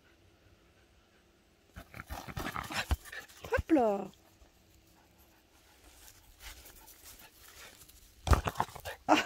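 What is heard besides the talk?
dog panting and playing with a ball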